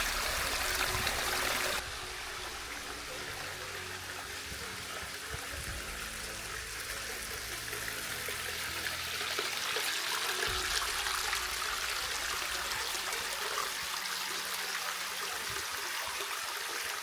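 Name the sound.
mountain stream water flowing in gorge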